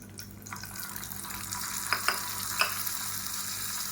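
A mustard seed, urad dal and curry leaf tempering is poured into a mint tomato chutney, giving a low steady sizzle with a few sharp clinks and splutters, close and fairly quiet, with no voices.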